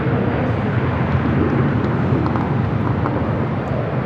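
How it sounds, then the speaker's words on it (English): A LATAM Boeing 787-8 Dreamliner takes off, a loud, steady jet roar with dense low rumble and some wind buffeting across the whole stretch. "The Tom Airline 603 taking off to Santiago, Chile on the 787-8 Dreamliner."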